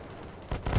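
A single rifle shot from a long-range kill at about 500 meters in the shooter game BattleBit, a short sharp low burst near the end after a quiet stretch.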